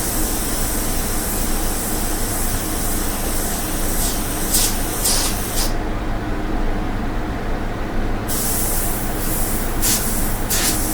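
An airbrush sprays paint onto a portrait of Gal Gadot, a continuous loud hiss of air that cuts off for a couple of seconds near the middle before resuming, close and steady with no talking.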